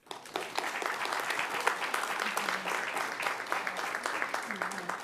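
A room full of people claps in a sustained round of applause, dense and even, with a few voices faintly under the clapping.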